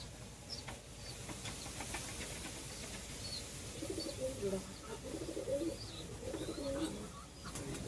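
Pigeons coo softly, a little way off, in a run of low murmuring calls over a faint steady hiss and a few distant chirps.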